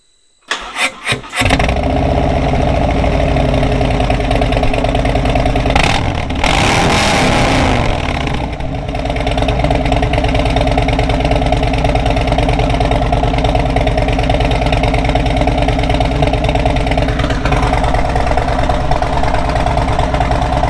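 A car engine cranks and catches on its first startup through a Tab Performance 50 cal exhaust with Zombie baffles, then settles into a loud, steady, rumbling idle that lasts for the rest of the clip.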